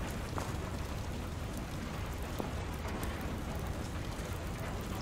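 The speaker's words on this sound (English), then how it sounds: "It's raining outside." Steady rain falls outside in The Wailer video game, a dense even wash of patter with an occasional faint drop or tick, continuous and unvaried, with no voices.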